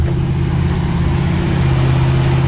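A 6.4L Powerstroke diesel with a leaking gasket idles loud and close, giving a steady low rumble with a constant hissing, airy wash over it and no break in the sound.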